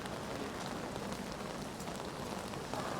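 Steady rain falls on a Central London street in November, a dense, even hiss that stays close and constant throughout with no voices.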